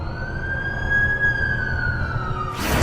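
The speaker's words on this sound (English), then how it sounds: "That's the ambulance I called." An ambulance siren wails steadily with a long sustained tone in the video game Spider-Man: Miles Morales, moderately loud and clear, with traffic rumble underneath and a sudden noisy burst at the end.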